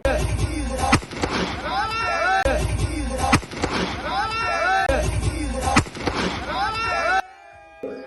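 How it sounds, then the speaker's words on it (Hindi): Several sharp gunshots fired into the air crack out at irregular intervals over loud voices and music at a celebration, the noise cutting off abruptly near the end. "इसमें कुछ युवक गाड़ी के बोनट पर केक काटते हैं और फिर हवा में गोली चलाते हैं।"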